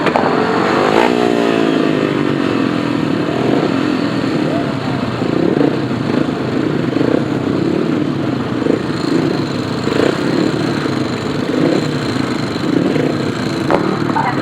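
Several 500cc sidecar outfits at a British grasstrack championship meeting idle and rev steadily on the grid, a continuous loud buzzing engine drone with rising revs, under crowd and announcer chatter.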